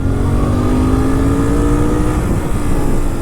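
Royal Enfield Continental GT650 motorcycle accelerating hard on an empty road, a loud, close engine drone rising steadily in pitch through the gear, with heavy wind rumble underneath.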